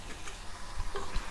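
Colocasia and chickpea curry stirred in a pan, a short burst of soft scraping and light taps over a faint sizzle, close, no speech.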